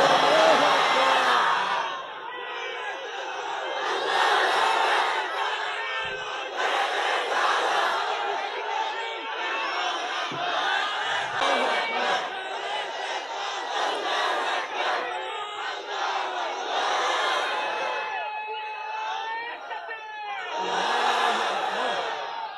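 A large crowd at an Islamic religious gathering in Sirajganj shouts the takbir in loud, sustained unison, swelling in repeated waves of massed voices over about twenty seconds.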